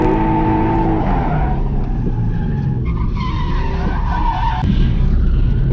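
A drift car slides through a turn during a tandem run on track, a loud sustained tire skid layered over a roaring, revving engine, with a second car's engine audible close by throughout.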